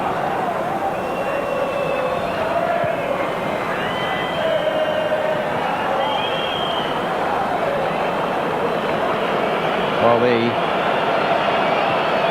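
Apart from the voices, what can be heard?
restless football stadium crowd at World Cup final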